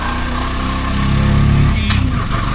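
An auto rickshaw engine drones steadily and close during a morning ride through Jaisalmer in light rain, with a constant low rumble that swells slightly midway, then softens and turns choppier near the end.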